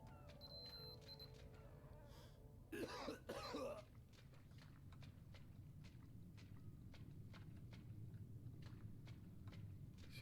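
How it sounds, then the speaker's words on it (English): A character coughing in the video game Metro Exodus, a short harsh burst of rough coughs with some throat clearing, set against low ambient game noise and a steady run of faint clicks. "See, that coughing isn't particularly good."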